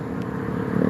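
Cars and motorcycles on a city street at night make a low, steady rumble of engines close by, with a slight swell toward the end and no speech.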